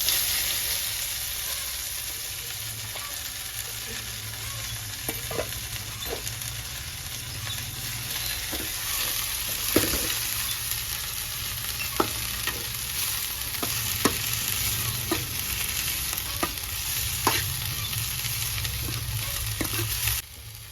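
Continuous sizzling of cumin and garlic frying in hot oil, with scattered crackles and occasional scrapes of stirring, steady and close.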